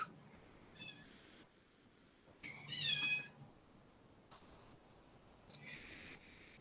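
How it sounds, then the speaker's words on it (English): A kitten gives several short, high meows at intervals, the loudest one midway, with soft clicks and small handling noises in a quiet indoor room and no talking. "we have a new kitten in the family, so that's him trying to get my attention."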